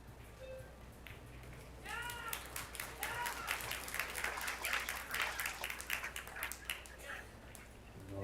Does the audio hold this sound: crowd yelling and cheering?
yes